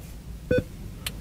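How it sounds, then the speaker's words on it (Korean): A short electronic beep from a car navigation unit's voice recognition button, one clear tone followed by a fainter brief blip, alone in a quiet cabin. "삐 소리 난 다음에 말을 하면 네, 알아서 인식을 합니다"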